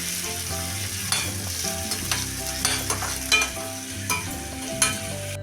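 Curry leaves and finely chopped onion sauté in a pan for rava idli, a steady close sizzle with repeated spatula stirs and scrapes clattering through it, no voices.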